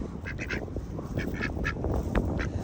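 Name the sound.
ducks quacking at a lake while being fed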